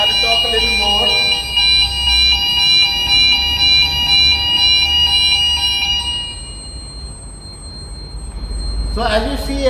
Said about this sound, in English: let me silence the alarm first